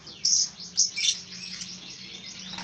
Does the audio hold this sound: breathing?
no